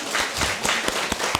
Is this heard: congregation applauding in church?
yes